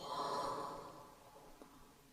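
Soft exhaled breath during a slow yoga breathing exercise, a broad airy whoosh that fades gradually over about two seconds, quiet and close, with no voice.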